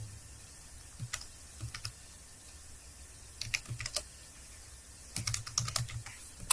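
Rapid bursts of typing on a computer keyboard, irregular clusters of close, crisp key clicks separated by short pauses, with no one talking.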